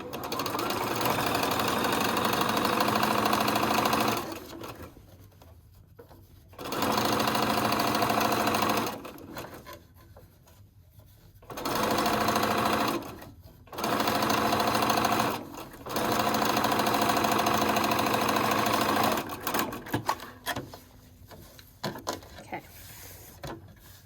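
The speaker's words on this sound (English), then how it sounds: "I'm going to go over to the sewing machine and sew the hem down" A sewing machine stitching down the hem of a McCall's 8358 wrap dress, running in several loud steady bursts of a few seconds each, separated by quiet pauses, with a few shorter stops near the end.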